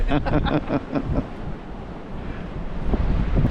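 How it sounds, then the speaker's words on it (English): Strong wind buffets the microphone on a fishing pier, a loud, rough rumble that swells and fades over a few seconds, with faint surf beneath. "I can blow away in this wind"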